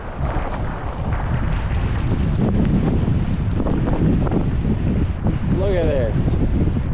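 Strong winter storm wind buffets the microphone beside a big Virginia lake, a loud continuous roar with gusty low rumble throughout, while a person talks briefly over it.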